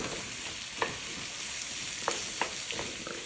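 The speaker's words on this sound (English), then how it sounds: "now I'm gonna go ahead and add in my onions. Add a little oil, get it working." Two onions fry in oil in a pot, a steady soft sizzle broken by a few light scraping stirs, close and fairly quiet with no talking.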